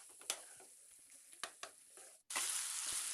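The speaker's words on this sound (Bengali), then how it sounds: "এবার চিংড়ি মাছ আর মোচাটা ভালো করে 1 থেকে 2 মিনিটের মতো কষিয়ে নেব।" Chopped banana flower and fried shrimp being stir-fried in a pan: a soft, steady sizzle broken by a few sharp scraping strokes, then a brief drop before a louder burst of frying hiss.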